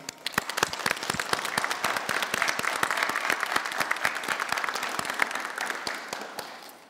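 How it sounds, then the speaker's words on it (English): Steady, dense applause from a seated audience at a teacher education pinning ceremony, sustained and fairly loud for several seconds with no voices over it. "Let's first offer a round of applause to the friends and the family that have supported our graduates through this journey."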